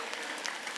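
An audience at a school day event at Nazareth Matriculation Higher Secondary School claps in a brief, fairly faint wash of many hands.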